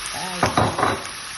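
Pork meat dropped into hot olive oil with garlic, onion and chili, giving a loud sizzling burst and stirring noises for about a second, then a steady background fry with no talk.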